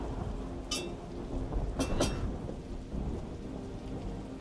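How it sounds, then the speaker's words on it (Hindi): Heavy rain pours steadily with rumbles of thunder in a dramatic TV serial scene, a few sharp crackling bursts standing out over the constant downpour, with no voices. "तो बारिश बहुत तेज हो रही है"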